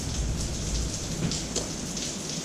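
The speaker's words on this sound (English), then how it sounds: "And it's raining." Steady rain falls outdoors beside a garage where a Camaro sits parked, a dense broadband hiss of drops on surfaces with occasional louder splatters, constant and fairly close, no voices.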